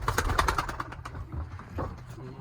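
Domestic pigeons let out of a loft, with low soft cooing and a flurry of wingbeats close by over a steady background.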